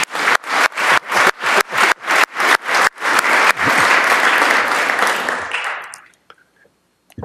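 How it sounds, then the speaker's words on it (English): An audience at a city hall address claps in a slow unison rhythm of sharp beats, then breaks into loud continuous applause that fades away to near silence. "How about a round of applause for that?"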